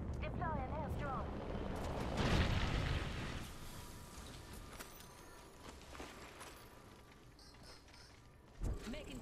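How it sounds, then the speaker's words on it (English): Muffled explosions from an airstrike in the video game Apex Legends, a heavy boom swelling near the two-second mark, rumbling debris and mechanical clatter, then a sharp closer blast near the end, over constant battle noise. "Deploy an airstrike."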